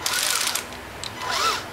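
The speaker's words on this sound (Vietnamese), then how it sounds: "Ví dụ ha, đây là đang chức năng khoan nè," A power drill set to drill mode gives two brief, faint whirring bursts with a quiet pause between them.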